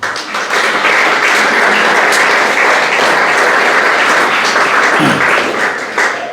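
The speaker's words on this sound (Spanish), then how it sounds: "Dale un aplauso al Señor." Loud, dense applause from a church congregation clapping for the Lord during a Spanish-language sermon, a continuous, even roar of many hands sustained for several seconds without speech.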